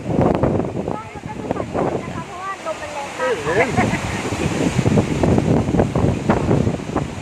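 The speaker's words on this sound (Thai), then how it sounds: "ได้ยินเสียงลมไหมคะ เสียงต้นไม้ ต้านลมได้ยินไหมคะ เสียงดังมากเลย ลมแรง ลมแรงมาก" Strong wind roars steadily through forest trees in Ireland, a loud, constant rushing backdrop with someone talking over it throughout.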